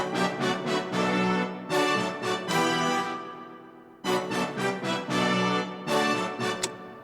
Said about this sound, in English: And all the horns together sound like this.